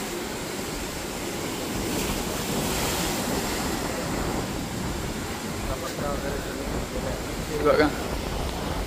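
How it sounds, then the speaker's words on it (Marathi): Sea waves roll onto Aare Ware beach in a steady, loud roar of surf, with wind buffeting the microphone and a voice faintly heard underneath. "आवाज कमी येत असेल कारण पाण्याचा आवाज आहे."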